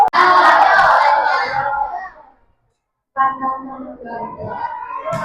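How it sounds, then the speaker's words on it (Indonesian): Audience clapping hands after a classroom presentation, a dense burst of applause that fades out by about two seconds, then a gap of silence before softer mixed crowd sound and voices return. "Boleh kita tepuk tangan lagi sekali."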